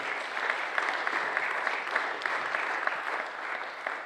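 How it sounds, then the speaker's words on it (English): A crowd at a technology expo talk applauds steadily, dense clapping filling the whole stretch with no voices over it. "Big round of applause for Terry Percival"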